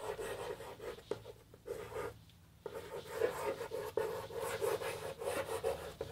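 A pen scratches across paper as a definition is written out in a classroom, quiet continuous strokes with brief pauses between words and short bursts of scribbling.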